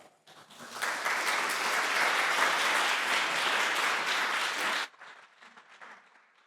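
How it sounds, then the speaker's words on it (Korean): Church congregation at a Sunday worship service applauding to welcome the preacher, a steady, full burst of clapping lasting about four seconds before cutting off, followed by quiet room sound. "전사님이 나오실 때 말씀 전을 큰 박수로 환영하겠습니다"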